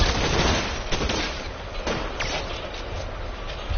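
Rapid gunshots in L.A. Noire, a dense burst of overlapping shots cracking in close succession under a muffled, band-limited rumble, loud and continuous through the short span.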